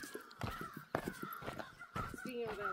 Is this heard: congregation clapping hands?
no